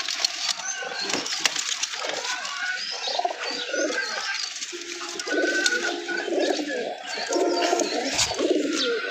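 Caught pigeons, one bearing a stamped 41-kilometre racing seal, coo repeatedly in soft low rolling calls amid steady background noise and stray chirps, with scattered voices faintly mixed in.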